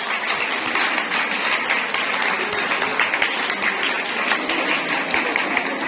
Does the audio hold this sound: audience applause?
yes